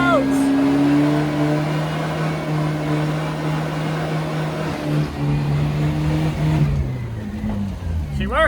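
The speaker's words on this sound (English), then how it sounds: "Some diesel burnouts!" A BMW E46 320d diesel car revs hard during burnouts, a loud sustained engine drone that shifts pitch and rises again near the end, with voices heard over it.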